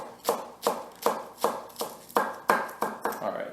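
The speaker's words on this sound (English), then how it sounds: "give it a little bit of a roll over, and just chop slices" A knife chops through rolled-up, bunched leaves on a board, cutting them into slices in a steady rhythm of about eight crisp, close strikes with nothing else in the way.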